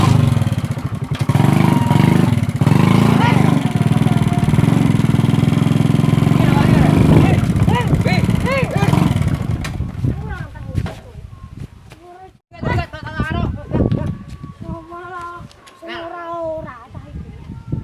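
A motorcycle engine runs loudly and steadily for about nine seconds, then abruptly cuts out and stalls, leaving people talking afterward.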